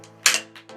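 A child's plastic toy gun fires once, a sharp, close cap-gun pop with a brief rattling tail and a couple of softer clicks after it.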